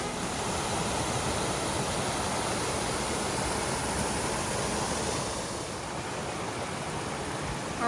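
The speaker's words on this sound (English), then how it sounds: "We're walking right by this beautiful stream this morning with all the little waterfalls in it." A woodland stream with small waterfalls along a hiking trail rushes steadily in a dense, continuous wash of water, easing slightly toward the end, and no voices are heard.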